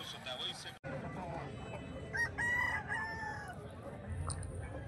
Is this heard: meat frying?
no